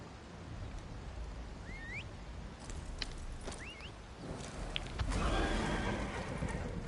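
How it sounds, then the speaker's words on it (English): A horse in The Elder Scrolls Online gives two short, high whinnies over soft ambient game background, followed by a burst of hoof and movement noise near the end. "So that's the horse that I'm using."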